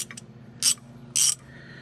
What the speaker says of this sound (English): The plain old ratchet and a crescent wrench on the nut end.